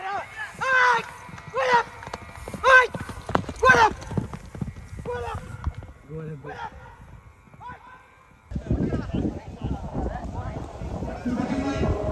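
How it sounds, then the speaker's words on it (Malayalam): A prize-winning racehorse's hooves clip-clop in an evenly spaced series of loud strikes at a horse-racing competition, then the steps fade as crowd chatter and background noise rise. "പൊള്ളാച്ചി റേസിന് ഫസ്റ്റ് അടിച്ച കുതിരയാണ്."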